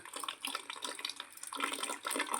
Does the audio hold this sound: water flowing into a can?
yes